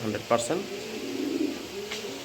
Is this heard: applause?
no